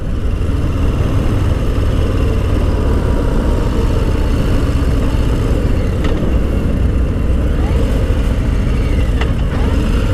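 Harley-Davidson Low Rider S motorcycle engine on the move during a ride, a loud, continuous low throbbing drone with steady wind rush and no voices.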